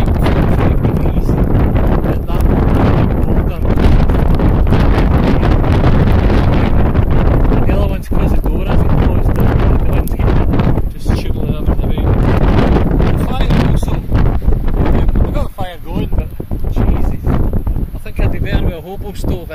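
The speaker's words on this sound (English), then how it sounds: "Even though I've got the wind at like 45 degrees." Strong wind roars continuously around a lavvu tent, buffeting the microphone in loud, rough gusts, with someone talking over the blustery noise.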